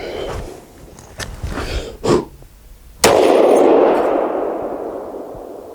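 A Mosin-Nagant M91/30 rifle fires a single loud, sharp shot outdoors, followed by a long, rolling echo that slowly fades, with a few lighter clanks and handling knocks before it.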